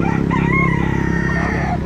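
A native chicken rooster for sale at a market crows loudly and close by, one long drawn-out call that sounds alone.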